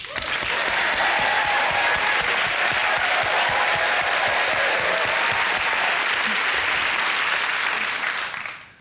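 A studio audience at the British TV pop quiz show Never Mind the Buzzcocks claps loudly and steadily for the teams, a dense wall of applause that holds for several seconds before cutting off.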